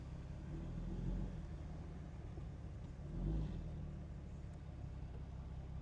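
A Dodge truck with a Cummins engine idles as it backs up in reverse, a low steady diesel rumble with two brief swells in revs, fairly faint and without talk.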